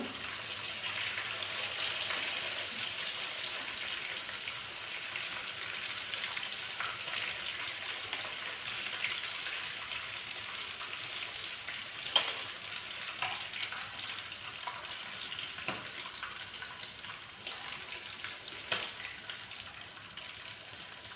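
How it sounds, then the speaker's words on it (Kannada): Spicy chicken frying in a pan, both sides cooked, giving a faint, steady crackling sizzle with scattered small pops over a long stretch, quiet and close with no voices. "ಇದು 2 ಸೈಡ್ ಸಹ ಫ್ರೈ ಆಯಿತು."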